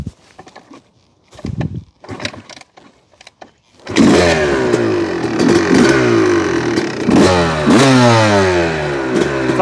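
Honda CR250 dirt bike: several sharp kickstart thumps and brief sputters, then the two-stroke engine fires and runs loud and close with rising and falling revs.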